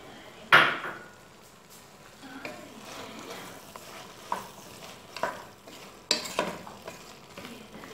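Vegetables and soya chunks are sautéed in a pot, with a soft low sizzle under scattered stirring knocks and scrapes of a spoon against the metal, close and fairly quiet, without talk.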